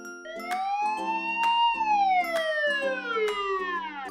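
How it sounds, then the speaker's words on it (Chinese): A cartoon police car siren wails up and down in a smooth, rising and falling tone, clear and loud, with sharp rhythmic beats ticking beneath it. "开着警车去抓小偷喽。"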